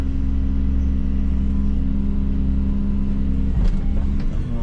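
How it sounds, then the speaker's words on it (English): A dredging machine's engine warms up with a loud, steady low rumble that swells briefly as the throttle is raised, close by with no talking. "Machine's warming up. Give it a little more throttle."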